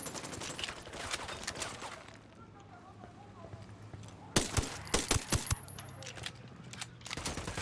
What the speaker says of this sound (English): Taking flanking fire from the checkpoint